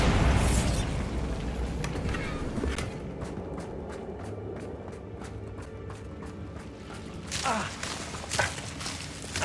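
Bombarda blasting spell in Hogwarts Legacy, a booming burst near the start followed by a run of sharp, evenly spaced ticks and clicks, then another heavier impact cluster near the end.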